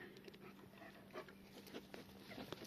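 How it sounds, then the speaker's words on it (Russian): A dog whimpers and pants softly nearby, with faint snuffling noises in a quiet room. "Собака пришла."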